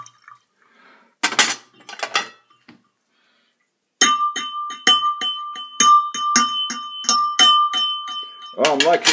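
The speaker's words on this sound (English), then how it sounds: "I shall commence testing by tapping this glass." A glass tapped while picked up by a homemade contact microphone rings out in a rapid series of clear, bell-like clinks with a sustained tone, after a few earlier isolated knocks.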